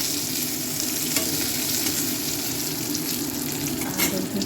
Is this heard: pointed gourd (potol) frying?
yes